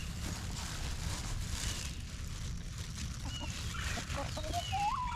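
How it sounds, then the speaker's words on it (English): Chickens and a rooster cluck on a farm during feeding, a busy, moderately distant murmur of overlapping clucks and calls with a few higher squawks near the end. "Look at that rooster."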